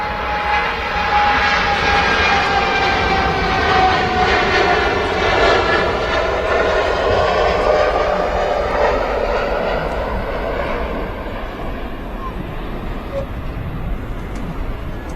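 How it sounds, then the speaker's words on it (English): A Boeing 787-9 Dreamliner jet accelerating on its takeoff roll at Manchester Airport, a loud, steady engine roar that holds throughout and eases slightly toward the end, with no talk over it. "Dreamliner on the roll. It's on its way to Cancun, I believe."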